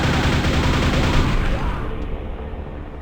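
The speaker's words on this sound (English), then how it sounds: "They fire hit-scan shotgun blasts in your direction" Shotgun blasts from grunt soldiers in the game Quake boom repeatedly in a dense, loud barrage of overlapping gunfire with no pauses.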